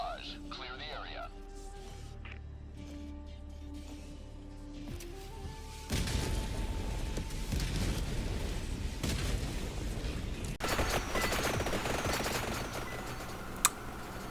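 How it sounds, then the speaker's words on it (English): An orbital barrage fired in a video game: after a quieter stretch with talk, a sustained roar of rapid blasts and gunfire-like impacts sets in and keeps rumbling loudly to the end, with a sharp crack near the close. "Firing orbital barrage. Clear the area."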